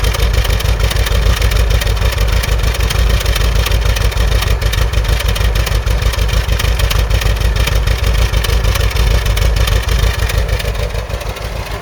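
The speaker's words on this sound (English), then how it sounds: "might be able to tell how she's running based on the exhaust notes" A Ford Cortina MK3 with a Pinto engine idles steadily with its exhaust burbling close by, a loud continuous rumble with fast, even pulses that holds for the whole stretch and dips slightly at the end.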